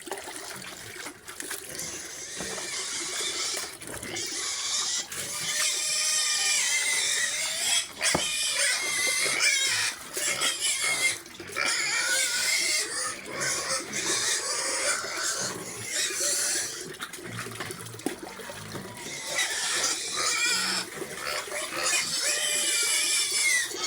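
A group of pigs grunts and squeals loudly and almost continuously, a noisy close-up chorus with trickling water mixed in.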